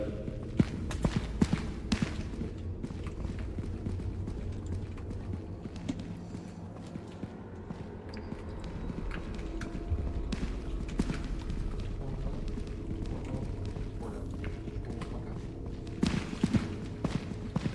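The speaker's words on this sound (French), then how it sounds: "Il y a des sales bruits de pas" Footsteps echo in the horror video game Content Warning, a run of hard, hollow clopping steps that come and go over a low ambient rumble.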